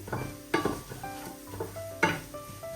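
A tempering of spices fries in sesame oil as a spoon stirs it around a pan, giving faint crackling with a few sharper metallic scrapes and clinks at close range.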